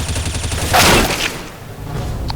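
A full magazine sprayed in a video game, a rapid dense burst of gunfire lasting about half a second amid a busy, close backdrop, then fading off.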